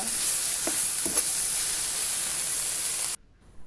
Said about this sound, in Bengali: এখন একটা লাড়া দিব লাল শাকটা।